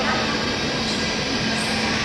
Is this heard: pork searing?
no